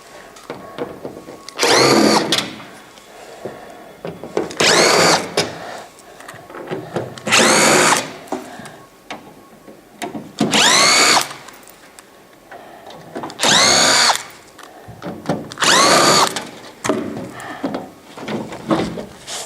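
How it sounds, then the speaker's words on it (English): A power screwdriver backs screws out of the front cover of a Santa Fe Classic humidifier, whirring in about seven short, loud bursts spaced by quiet pauses as each screw comes free. "We actually have 6 screws here around the perimeter. We'll take all 6 of those out and get the front cover off."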